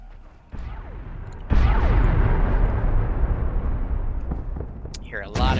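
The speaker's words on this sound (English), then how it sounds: "Hear a lot of explosions going off." Mortar rounds from fire support in Arma 3 explode in a rolling barrage, with two sharp, loud blasts that give way to a long rumbling roar and scattered crackles, and another burst near the end.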